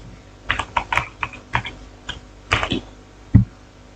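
Scattered keystrokes on a computer keyboard while entering an XSS script on Kali Linux, irregular clicks in short bursts with a heavier thump near the end, close and fairly quiet with no talking.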